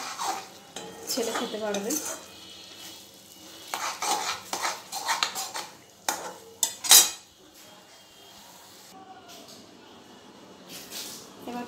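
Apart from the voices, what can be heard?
leftover meat being reheated and stirred in a pan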